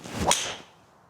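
A Callaway Quantum Ti 3 wood strikes a golf ball with one sharp, loud crack that whooshes off and fades over about half a second, heard alone with no talking.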